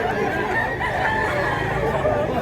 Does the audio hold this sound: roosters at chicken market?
yes